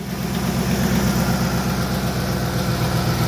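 A 2006 Ford Expedition engine idles steadily, rough and rumbling, with a ragged, sputtering note from a faulty exhaust, loud and close, no voices.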